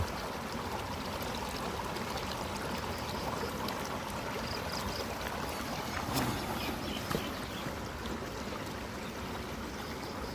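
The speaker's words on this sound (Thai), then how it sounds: "น้ำไหลลงห้วย" Water runs steadily down into a forest stream, a constant broadband rush that stays even and fairly close throughout, with a couple of brief knocks near the middle.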